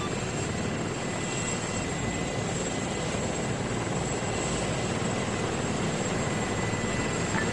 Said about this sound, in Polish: Wroga Helka, wrogi samolot na być.